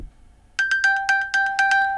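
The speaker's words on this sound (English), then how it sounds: "press the button, it makes my phone ring" An iPhone rings after being pinged from an Apple Watch Ultra 3, a loud, close chirping ringtone of rapid repeated tonal pulses that starts abruptly after a brief quiet moment.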